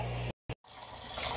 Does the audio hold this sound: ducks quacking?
no